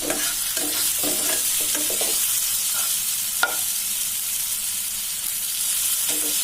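Chicken masala Maggi with black pepper is stirred in a pan, a constant crackling sizzle with clustered scraping strokes early on and a single sharp knock midway, no speech.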